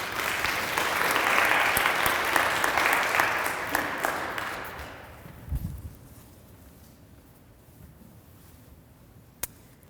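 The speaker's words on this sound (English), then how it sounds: "So give it up for the one and only Rebekah Leventhal." A crowd claps loudly for several seconds as a senior speech speaker is introduced, then the applause fades away, leaving a quiet room with a thump or two.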